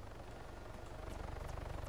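A helicopter's rotor thumps in a steady fast pulse over a dense engine roar in the video game ARMA 3, continuous and fairly loud throughout.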